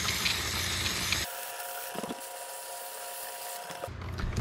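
Brake cleaner sprays onto a dirty rear brake disc and pads of a first-generation Yamaha VMAX motorcycle in a steady close hiss lasting about a second, then a quieter pause with a faint tonal ring before a second short burst of spray.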